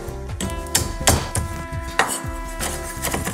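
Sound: knife chopping walnuts for a salad

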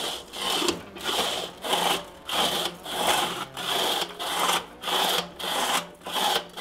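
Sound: timber scraper with water scraping Weber kettle barbecue

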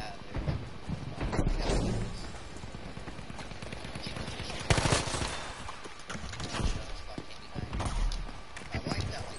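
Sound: gunfire in video game Battlefield 5

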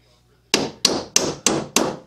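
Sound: hammer driving nails into a wooden bee ventilation box

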